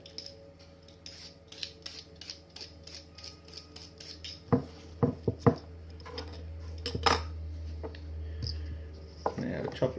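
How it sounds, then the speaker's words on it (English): Skin is stripped off a carrot in a kitchen with a handful of sharp scraping strokes and clicks. The sounds are close and fairly quiet, coming in uneven bursts over a low background hum. "Now I could skin it. I'll skin it."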